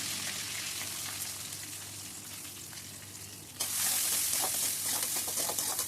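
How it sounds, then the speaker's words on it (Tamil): Chopped onions tipped into hot oil for a mango and anchovy curry sizzle steadily, and the frying jumps louder and brighter partway through, with a dense crackling hiss that stays close. "வெட்டி வச்சிருக்கிற வெங்காயத்தை இதில் சேர்த்துடலாம்."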